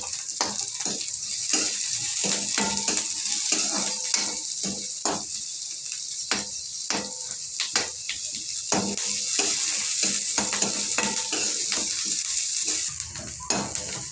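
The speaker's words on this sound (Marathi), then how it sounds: "कांद्याचा रंग सोनेरी होईपर्यंत याला परतवून घ्यायचा।" Onions sautéing in a pan until golden, a constant hiss overlaid by repeated sharp scraping and clinking strokes of a spatula against the pan, close and steady.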